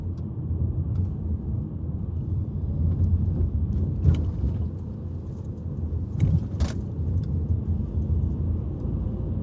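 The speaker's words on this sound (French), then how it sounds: "Ce sont des voitures puissantes." Powerful cars rumble past on a road in a continuous low engine drone that swells and fades over several seconds, with a couple of sharp clicks or jangles in between.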